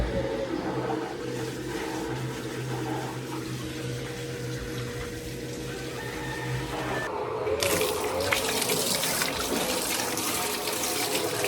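A small self-priming water pump runs at a cedar hot tub, giving a steady low hum under trickling, gushing water that grows louder and splashier partway through.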